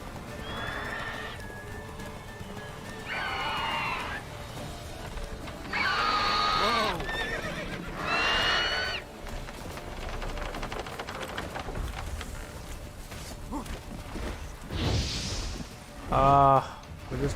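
Roach, the horse in The Witcher 3 video game, lets out several loud, repeated neighs and whinnies in bursts, with hoof clip-clop and ambient game sound between them and a voice speaking briefly.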